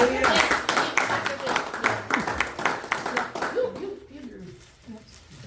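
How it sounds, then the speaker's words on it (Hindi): Applause and clapping fill a church Father's Day meeting, a dense steady patter of many hands that fades toward the end, with voices talking over it. "तालियां तो जोरदार तालियां"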